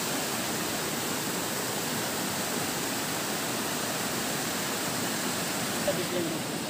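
Broad, steady rush of a large, swollen river flowing past a bathing spot, a continuous loud wash of water that fills the whole clip without pause.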